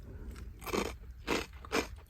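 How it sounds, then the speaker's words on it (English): Three crisp crunches of brittle baked Parmesan pieces being bitten and chewed up close, spaced evenly apart in a quiet room. "A little bit of crunch from the Parmesan, the baked Parmesan."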